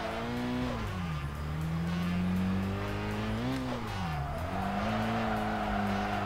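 A car in the Kaido Racer 2 video game drifts with its engine revving and dipping in pitch as its tires squeal steadily through the slide, loud and unbroken.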